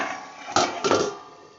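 A pot lid is lifted off a pan of cooking bathua greens. Two quick metallic clanks ring out close together, then fade into a quiet kitchen.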